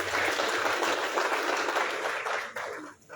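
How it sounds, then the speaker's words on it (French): An audience at a youth political engagement forum applauds the minister, a dense, sustained wash of clapping that holds steady before thinning out and tapering off near the end. "Applaudissez très fort pour Monsieur le ministre encore une fois."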